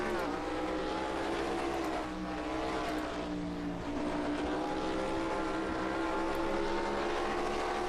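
High-revving race car engine in a racing video game, held near the redline as a steady, loud whine with dense harmonics, continuous throughout with no talk over it.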